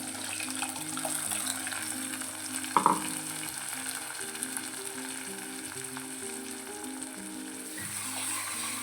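Ground spice paste with fenugreek going into a pan of sardine curry, a steady sizzle and stirring with a brief splashing surge near the start, over soft background music.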